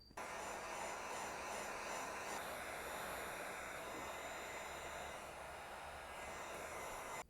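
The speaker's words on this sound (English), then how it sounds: "Maybe I'll help it along with a heat gun." A heat gun dries a stained polymer clay base for a figure sculpture, giving a steady, loud blowing whir that runs unbroken from start to finish with no voices.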